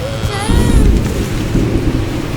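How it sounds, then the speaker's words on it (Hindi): Loud thunderstorm on a dark evening, with heavy thunder rolling close by over steady rain pattering on surfaces, and no voices. "इस तेज तूफान के साथ घने काले बादल भी आए थे"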